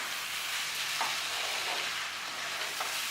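A spatula stirs a prawn and cabbage mixture in a hot pan, with a steady close sizzle and faint scraping throughout, no voices.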